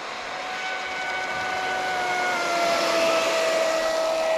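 A Traxxas Spartan RC boat fitted with a smaller 4514 prop runs at high RPM, a steady electric whine that slowly climbs in pitch and grows slightly louder over a few seconds, with no voices.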